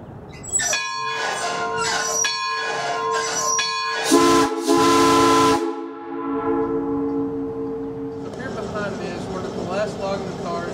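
An old steam locomotive once used for logging sounds its whistle in several sustained tonal blasts with brief gaps, close and loud, followed by a busier stretch of clanging and rumbling.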